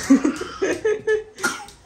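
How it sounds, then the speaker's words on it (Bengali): A child coughs several times in short bursts, close to the microphone, with brief pauses between. "কাশি হচ্ছে?"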